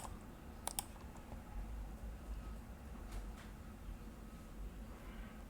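A computer mouse gives a few sharp clicks close by over faint room hum, as the update button is pressed.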